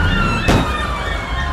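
A wailing police siren sounds continuously and loudly, with a sharp burst of noise cutting in briefly partway through.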